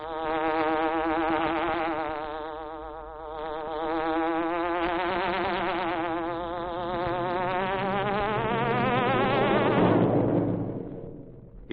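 A buzzing hornet sound effect from an old Green Hornet radio show rises and falls in pitch. It drones loudly and alone for about ten seconds, then breaks off into a rougher burst.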